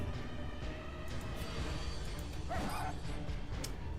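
A dog attacking in the gothic dungeon-crawler Darkest Dungeon, a short growl-like bark and yip sitting in a dense, rumbling mix of game music and combat noise.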